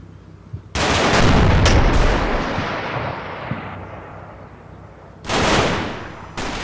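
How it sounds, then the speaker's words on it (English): High-explosive shelling in Combat Mission Normandy booms loudly in two bursts, each a sharp blast followed by a long rumbling decay, with no talk. "HE fire from somewhere"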